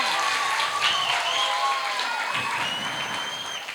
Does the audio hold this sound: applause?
yes